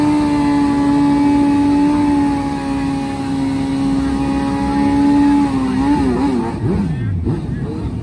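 Drag-racing motorcycles scream down the strip at a Top Gas street-bike versus drag-bike shootout, a sustained high engine whine that bends and sweeps downward as the bikes pass and fade into the distance.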